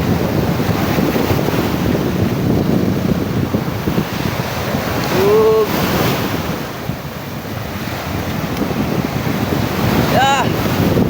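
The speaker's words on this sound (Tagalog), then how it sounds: "grabe lalaki ng mga alon" Large ocean waves crash and surge continuously on the shore at a fishing spot, with heavy wind buffeting the microphone; a brief whistle-like tone cuts through near the middle and again toward the end.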